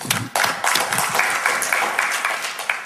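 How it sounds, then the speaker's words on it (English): A small audience claps for a few seconds, close and fairly loud, with distinct individual claps in an uneven rhythm. "Give me a round of applause."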